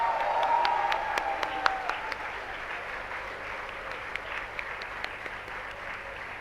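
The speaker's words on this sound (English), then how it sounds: "Let's give them a huge round of applause." Applause for graduates at a convocation ceremony, a scattered crowd clapping in a large hall, with a few sharp individual claps standing out over a fading, moderate wash of hand claps.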